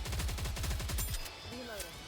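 Rapid automatic gunfire from Goddess of Victory, a dense burst of shots for about a second that then stops, leaving a game voice and a few electronic chirps and tones behind it.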